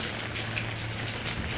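Steady rain falls on a city street where pedicabs wait in line, a dense, even patter of drops on surfaces with no voices over it.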